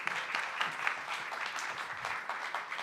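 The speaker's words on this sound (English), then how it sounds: "Round of applause" Steady applause from an audience at the MIT 100K Accelerate 2025 startup pitch event, many hands clapping together at moderate volume throughout.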